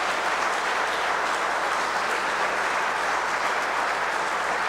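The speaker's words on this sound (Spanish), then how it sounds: "Un aplauso a los bebés, por favor." Sustained applause from a large congregation inside a church during Mass, dense and even clapping filling the room for several seconds without pause.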